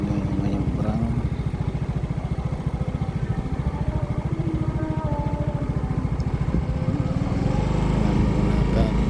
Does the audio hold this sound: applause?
no